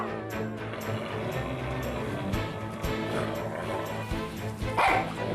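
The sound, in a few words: mother dog barking at her puppies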